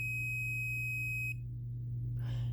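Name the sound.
multimeter continuity beep while capacitors charge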